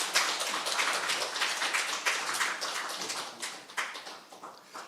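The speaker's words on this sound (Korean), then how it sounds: "이제 박 선교사님께서 이제 말씀해 주실 때 여러분 나오실 때 큰 박수로 환영해 주시기 바랍니다" A church congregation at a Thanksgiving worship service applauds a missionary coming to the stage, with a steady patter of many hands clapping at moderate distance that gradually thins out.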